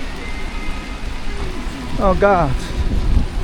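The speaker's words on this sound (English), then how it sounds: "Super heavy rain, my dear friend, fate." Super heavy rain pours outdoors in Jiefangbei as a dense, steady roar of water, while a man exclaims briefly over it.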